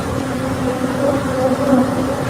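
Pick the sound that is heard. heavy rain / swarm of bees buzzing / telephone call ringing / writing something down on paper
swarm of bees buzzing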